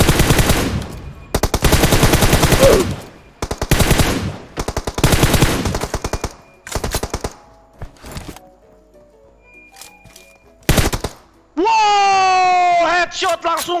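Gunfire in the mobile battle royale game PUBG Mobile: loud, rapid automatic bursts repeated in volleys with short gaps, then a rising whine near the end.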